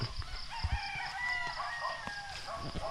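Chickens on a family farm cluck and a rooster crows at a distance through a steady outdoor murmur, with soft bumps and scattered bird calls close by.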